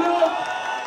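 Concert crowd at a Turkish rap album launch show cheering with sustained voices: a dense, loud roar of shouting and cheering throughout, with little distinct clapping audible.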